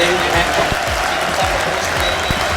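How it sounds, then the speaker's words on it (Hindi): An audience at an RJD felicitation ceremony in Motihari claps loudly and steadily to welcome a guest, dense applause filling the hall throughout while someone speaks over it. "जोरदार तालियों से स्वागत कीजिए"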